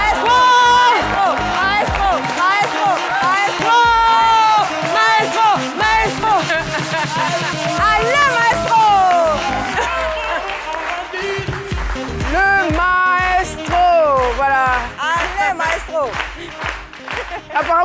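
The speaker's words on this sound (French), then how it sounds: "Merci de recevoir avec des applaudissements bien fournis Isian Toussa." A studio audience on a midday television show greets a guest with lively applause and cheers, loud and sustained, with music playing throughout.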